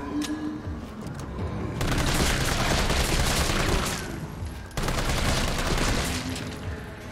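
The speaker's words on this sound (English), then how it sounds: "Okay, the zombie bodies are exploding." Repeated wet, gory bursts from zombie bodies blowing apart in Resident Evil 3 Remake's hospital section, dense and loud like a rapid fusillade of blasts across the clip, with a brief dip before the bursts resume.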